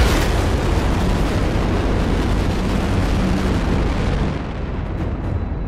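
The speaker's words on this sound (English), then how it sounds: "Yeah, the explosion killed me." A sustained, loud explosive roar from the Titanfall video game fills the whole stretch, a dense broadband rumble that holds steady and eases only slightly toward the end, with no talking.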